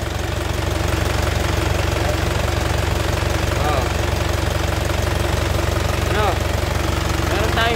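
A freshly overhauled Isuzu 4HF1 diesel engine idles with a steady, slightly rough knocking rhythm, loud and close throughout, a voice speaking over it.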